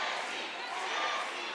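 Crowd cheering and roaring at an American Ninja Warrior obstacle course, a dense, steady wall of voices with no breaks, loud and close throughout.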